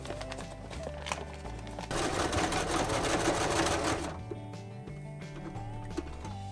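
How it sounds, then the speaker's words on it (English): A sewing machine stitches a Cuben fiber ripstop zipper pouch for backpacking gear, its motor whirring in short bursts with a louder, denser run in the middle, alone with no talk. "That could be the very last bit of sewing."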